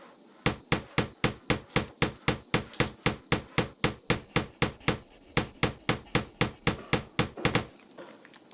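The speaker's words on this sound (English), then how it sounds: "Now, nail the sides together with your hammer." Hammer driving nails into boards in the Tonka Workshop game: about twenty-five sharp, evenly spaced wooden knocks in a steady fast rhythm over roughly seven seconds, close and clear with no voices.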